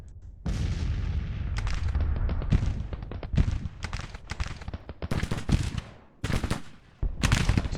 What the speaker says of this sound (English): Are guns still firing?